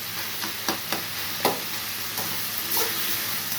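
Onion and tomato being stirred in a frying pan for a mushroom fry, giving a steady close sizzle broken by a few soft scraping clicks of the spoon, with no voices.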